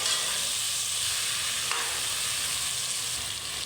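Vegetables for sambar, okra and tomato pieces among them, sizzle and fry in a pan while being stirred, a steady close hiss with a light scrape of the spoon and no talking.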